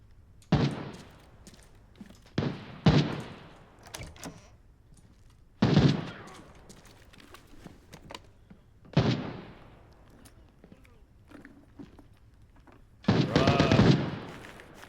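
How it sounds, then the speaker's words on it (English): Gunshots in the shooter game Arena Breakout Infinite, several separate sharp reports and short bursts spread irregularly across the stretch, some loud and close, others fainter and more distant, with quiet gaps between. "Quite a few shots going down right now."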